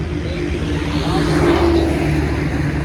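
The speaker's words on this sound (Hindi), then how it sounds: "ये गाड़ी जा रही है जी, गाड़ियाँ बाइकें जा रही हैं।" Steady traffic of cars and motorbikes passing along a bypass road near Okara, a continuous close engine drone and tyre hum with no pauses and no talk.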